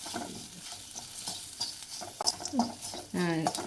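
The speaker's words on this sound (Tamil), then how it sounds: "இது போட்டதுக்கப்புறம் கொஞ்சம் நேரம் நல்லா இப்படி மறுக்க ஒருக்க ஃப்ரை பண்ணி தீ சிம் சிம்லேயே வச்சுருக்கணும்" Sundakkai vathal (dried turkey berries) fry with turmeric and chili powder in a pan, giving a brisk sizzle with quick scraping stir strokes, close up, while a voice talks briefly over it.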